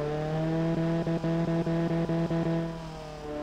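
An Iron Duke engine at full throttle with a faulty exhaust holds a steady droning roar, broken by a run of rapid regular stutters before the pitch sags and fades slightly.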